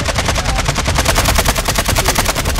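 Sustained automatic gunfire in a shooter video game rattles in a fast, steady stream of loud, close shots with no pauses.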